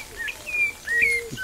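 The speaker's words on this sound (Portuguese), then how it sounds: "sabiá cantando ali," A sabiá thrush sings nearby outdoors at a rural farm, with clear, sliding whistled phrases and a few short chirps heard alone over a faint background hiss.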